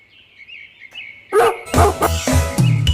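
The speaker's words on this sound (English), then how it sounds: "D is for dog. D for dog." A dog barks several times in quick succession, loud and close, following a faint high bird-like chirp, with no talking, as part of a children's alphabet song.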